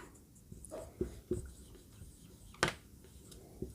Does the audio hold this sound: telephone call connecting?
no